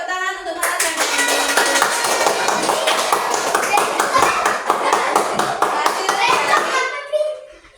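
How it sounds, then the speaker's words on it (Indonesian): A school class of children applauds a young pupil after he presents a leaf collage, with dense, sustained clapping from many hands lasting several seconds before fading out, some children's voices mixed in. "Ya, tepuk tangan untuk Mas Radin."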